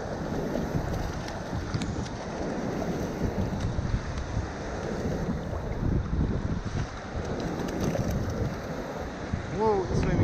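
Strong northern wind buffets the microphone by the sea during sea trout fishing, a constant loud roar and rumble with waves and water noise underneath, steady for the whole stretch.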